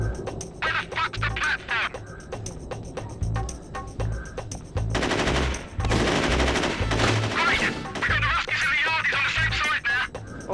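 Sustained gunfire erupts in The Getaway: Black Monday, loud, rapid bursts of shots and machine-gun fire, with the densest volley in the middle stretch, underpinned by a heavy low musical pulse.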